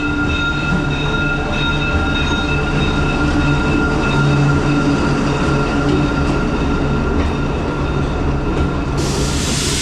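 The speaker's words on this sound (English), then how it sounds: "here we have another view of the train as it goes through the town of Aguas" A train rolls steadily through the mountain town of Aguas Calientes near Machu Picchu, its close, continuous rumble carrying rail hum and faint metallic clatter for the whole stretch.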